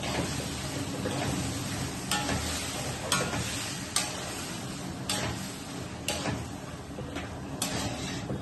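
Spices and ratlami sev curry with peanut bhujiya being stirred in a pan, a steady scraping and sizzling with regular sharp clicks of the spoon against the pan roughly once a second, close and continuous, with no talking.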